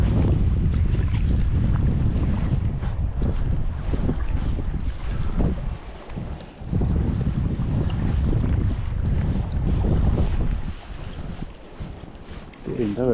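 Strong coastal wind buffets the microphone steadily while someone casts a line for sea trout on the shore, with waves lapping, and someone talks intermittently over the roar.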